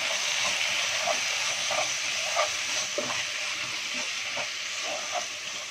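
Masala gravy for vada curry sautéing and frying in a pan, a steady close hiss with soft repeated stirring scrapes throughout, no voices.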